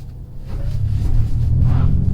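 A Ford F-150 Lightning electric pickup accelerates hard, heard from inside as a swelling low rumble of road and drivetrain noise that builds and holds, with no engine note.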